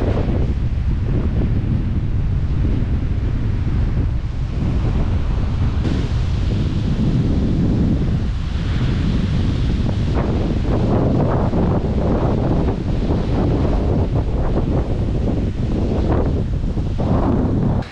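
Strong wind buffeting the microphone at a remote beach campground, a loud constant roaring gust with surf rumbling underneath, no talk.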